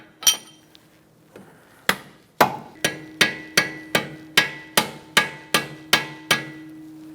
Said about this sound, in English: whack with a rubber mallet